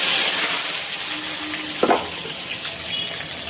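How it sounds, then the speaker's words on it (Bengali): Cut potatoes frying in oil in a wok, a soft continuous sizzle with a brief clatter of stirring near the middle. "এখানে আলুটা কেটে নিয়েছি, কড়াইতে তেল দিয়েছি, আলুটা ভাজবো।"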